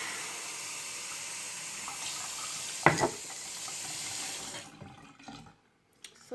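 A tap runs steadily into a sink as water warms, a close hissing rush with a brief clatter partway through, then the flow stops and a few faint handling sounds follow.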